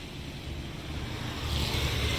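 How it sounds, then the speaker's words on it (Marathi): A vehicle's engine and road noise rising gradually as it approaches from behind on a road near Ponda, Goa, fairly quiet at first and growing louder toward the end, with no talking. "फाटल्यान गाडी येता"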